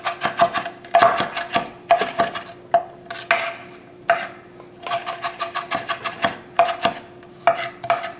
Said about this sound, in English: Give it a quick chop.